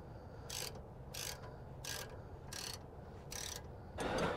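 A ratchet wrench tightens jam nuts on a Clayton 3.5-inch Overland Plus lift kit with Rancho RS9000XL shocks: five evenly spaced bursts of close, crisp ratcheting clicks over a steady low background hum, with no talking.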